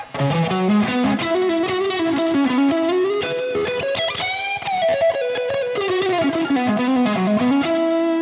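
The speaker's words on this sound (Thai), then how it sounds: "แล้วคราวนี้พอมาเป็นเสียงแตกที่เป็นแก๊กบน" An Ibanez AZES40 electric guitar on its upper pickup, played through a distorted tone, rings out loud and continuous with sustained chords and melodic lines for the whole stretch, with no voices over it.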